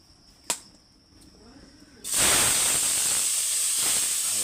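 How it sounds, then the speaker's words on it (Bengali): Paneer dropped into hot oil in a wok: after a quiet start with a single small click, a sudden loud hissing sizzle bursts in and holds steady and close until the end. "হালকা মিডিয়াম জালে আমরা পনিরটা ভেজে নেব।"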